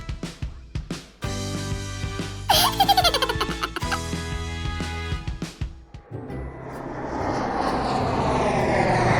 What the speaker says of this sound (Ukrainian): А, літак, допоможіть!